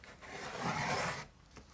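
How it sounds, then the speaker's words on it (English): A rough graphite stick, similar to coloured charcoal, drags across paper in one sustained, soft scratchy stroke lasting about a second, followed by a brief lighter scrape, close and quiet. "Now this is a beautiful graphite stick. It's like a stick of coloured charcoal really, and I like it's much rougher and it gives different marks."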